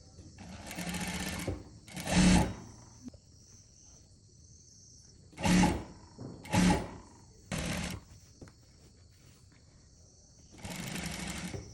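A sewing machine stitches a saree blouse seam just over a quarter inch wide in six short, loud, close bursts separated by quiet pauses, with no talking.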